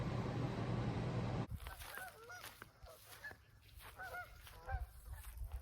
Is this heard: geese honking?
yes